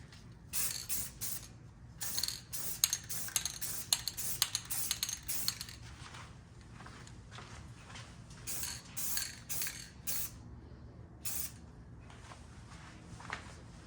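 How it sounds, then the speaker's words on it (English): Clear coat sprayed from a can onto a Suzuki LTZ 400 ATV part: a series of short, bright hissing bursts in uneven clusters, mixed with small clicks and rattles, close by with no talking. "let's get a coat of clear on there."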